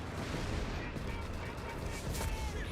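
Artillery fire from the video game Company of Heroes 3 rumbles as a dense, noisy barrage of booms and crackles, fairly quiet and continuous with no speech.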